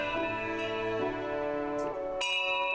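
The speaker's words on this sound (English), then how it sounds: "As I prepare to leave the field, a small bell begins to ring." A small bell in the video game Lost Odyssey rings out several times in a steady sequence, each clear metallic strike leaving a sustained tone, heard alone without talk.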